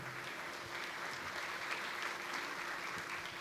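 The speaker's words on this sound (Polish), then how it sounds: "brawa" Audience applause at a depression awareness conference, a steady, even wash of clapping that is quiet and somewhat distant, with no voices over it.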